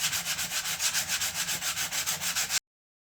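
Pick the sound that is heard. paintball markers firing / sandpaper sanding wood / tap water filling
sandpaper sanding wood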